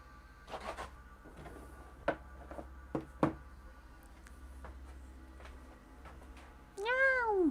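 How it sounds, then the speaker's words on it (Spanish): A house cat meows several times in short separate calls, fairly close, over a low steady hum, with a louder drawn-out rising meow near the end. "Esperen, que llegó la gata."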